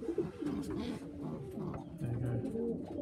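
Pigeons coo continuously at a bird show, low throaty burbling calls overlapping close by at a moderate level, with no one talking.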